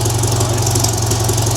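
A farm tractor engine runs steadily up close with a loud, constant droning hum and a high whine over it, no pauses or talking.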